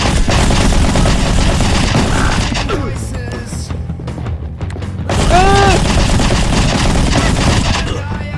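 Rapid bursts of gunfire and booms from the Rocket Bird video game, dense and loud, easing briefly mid-way and then surging again, while people talk and shout over the shooting.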